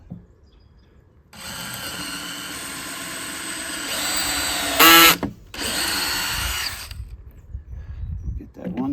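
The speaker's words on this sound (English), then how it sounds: "It's a pretty nice little drill." A DeWalt cordless drill whirs steadily for several seconds nearby, rising briefly to a sharper burst before a short pause, then running again before cutting off.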